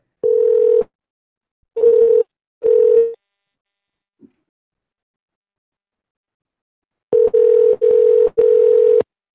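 Outgoing telephone call ringing back with a steady tone: three separate rings early on, a pause, then a run of four closely spaced rings near the end, loud and clear with no talk.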